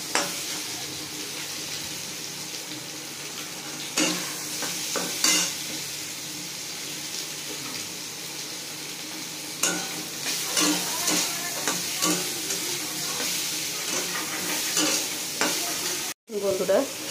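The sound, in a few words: fish frying in a pan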